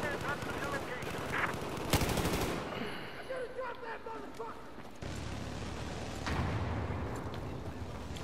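Automatic gunfire in a multiplayer shooter, heavy bursts of rapid shots coming in at the player, loud and close with a sharp crack around the two-second mark, mixed with voices talking during the fight.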